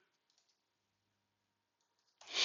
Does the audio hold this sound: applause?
no